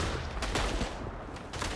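Gunfire in the World War I shooter Verdun: a few sharp shots crack over a dense, continuous wash of battlefield noise, loud and close, with no clear talking.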